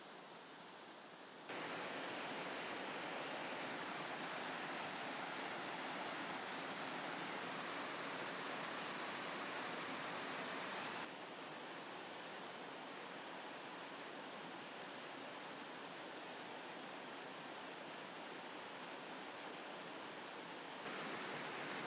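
Forest stream water rushes and splashes steadily in a dense, continuous wash of noise, close and loud, with a slight shift in tone partway through.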